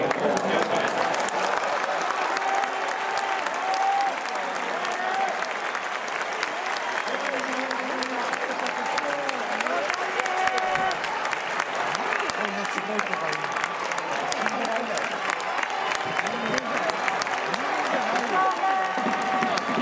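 A stadium crowd in Osaka applauds and cheers steadily at a Samurai Japan exhibition baseball game against the Hanshin Tigers, a dense, continuous wash of clapping with a voice speaking over it.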